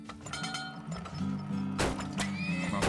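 A horse in the video game Turmoil neighs loudly with a rising, shaky whinny over game music and clopping hooves, close and clear.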